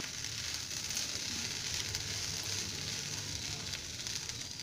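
A pan of okra fry sizzles in melted butter, a steady, fairly loud hiss and crackle that runs on without a break and with no voices over it.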